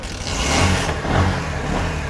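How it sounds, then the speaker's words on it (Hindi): A Bajaj Platina 100 motorcycle engine runs close by, its low rumbling putter swelling in two short rev-like surges over about two seconds, with no voices. "बाइक स्टार्ट हो गई है।"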